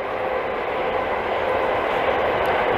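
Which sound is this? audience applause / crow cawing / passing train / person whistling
passing train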